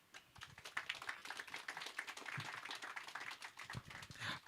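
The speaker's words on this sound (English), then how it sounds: "A better clap for Steve." Audience clapping at a Wangari Maathai Day event, a steady patter of many hands at moderate distance with scattered sharper claps, sustained for several seconds and fairly quiet.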